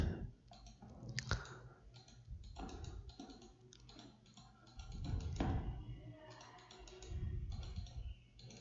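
Computer mouse clicks during AutoCAD layer work, a steady scatter of quick, close, crisp taps spread across several seconds at low volume with no talk over them.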